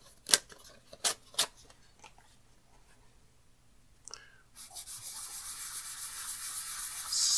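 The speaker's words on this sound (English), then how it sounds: "see what happens when we sand this down" A few sharp taps and scrapes come first, then steady close rubbing begins as 320 grit sandpaper works over a bleached surface, an even, continuous hiss that builds slightly in level toward the end.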